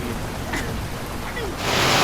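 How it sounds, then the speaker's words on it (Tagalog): Heavy rain pours down at a house construction site, a steady broadband wash that swells suddenly louder and denser toward the end, with faint voices underneath. "lumakas ang ulan, bumuhos ang malakas na ulan"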